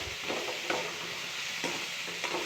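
Tomato masala with a spoonful of besan sautéing in a pan for lady's finger curry, giving a steady soft sizzle with a few scraping stir strokes of a spoon throughout.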